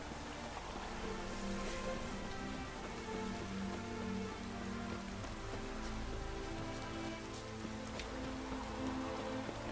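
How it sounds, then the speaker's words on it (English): Steady in-game rain from The Witcher 3 falling on surfaces, a continuous soft patter with a low, broad ambient wash beneath it throughout, at a constant moderate level and with no talk over it. "I like rain."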